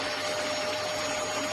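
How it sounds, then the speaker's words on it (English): A vacuum cleaner runs steadily and loudly with a constant broadband whoosh and a high motor whine, filling the whole stretch without pause. "I am going to suck you into the vacuum cleaner"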